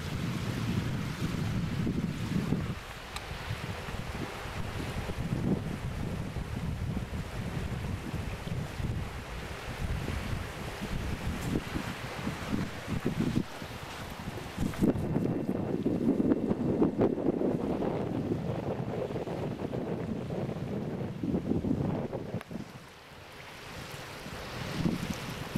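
Strong wind buffets the microphone near open water beside a Lynx vertical-axis wind turbine, a broad continuous rush that swells and eases in gusts, with some surf-like wash and no speech.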